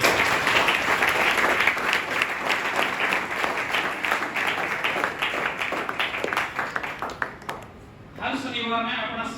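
A classroom audience of exam students claps loudly and steadily for several seconds, the dense applause thinning near the end as a voice begins to speak.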